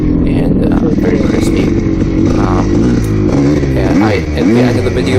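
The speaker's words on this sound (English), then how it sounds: "when you blip it, it actually accelerates fast" A tuned Yamaha YZ 490 dirt bike engine revs loudly up close, a steady two-stroke drone broken by quick throttle blips that rise and fall in pitch.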